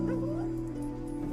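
A dog whimpers and whines in a high, wavering tone, fairly close and steady throughout, with low background hum beneath it.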